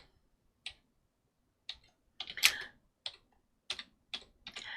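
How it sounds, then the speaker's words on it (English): Someone types on a computer keyboard nearby: scattered single keystroke clicks and a few short bursts of taps, separated by silent gaps, with no talking. "I've got to type it before I say it."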